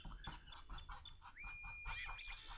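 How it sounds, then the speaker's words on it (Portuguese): Birds chirp and whistle in the background in a home setting during a painting session, with thin high calls repeating throughout and one longer sustained whistle partway through. "Tá saindo o som da passarinhada aí,"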